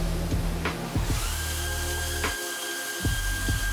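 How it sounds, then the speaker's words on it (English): A CNC machine mills an aluminum tool and chamfers its edges with an edge breaker, giving a close, continuous high whine with sharp tonal shifts and brief cutting bursts. "the other sides of the tool are milled and the edges are finely chamfered with an edge breaker"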